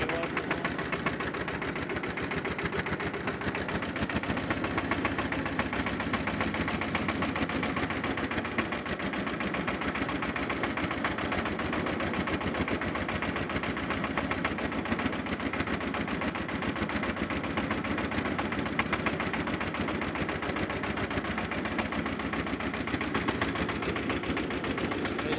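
A boat engine runs near the Teesta barrage, a steady continuous mid-low drone with a faint knocking pulse that holds unchanged and close for the whole stretch, with no voices over it.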